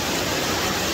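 Cold mountain water rushing over rocks in a stream near Shogran, a steady broadband wash with no breaks, loud and close, alone without voices.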